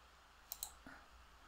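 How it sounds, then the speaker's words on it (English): A few crisp mouse clicks close by while using Microsoft Project on a computer, with two quick clicks and then a softer one, alone in a quiet room. "And I click below to see the change."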